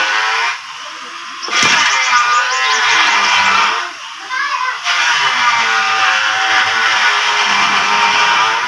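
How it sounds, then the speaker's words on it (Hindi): A saw runs steadily behind voices in a Punjab village home, a constant broadband whine that fills the background throughout. "पीछे आवाज़ इसलिए कम हो रही है क्योंकि मामू का भाई है, उनका आरा चल रहा है बैक साइड पे"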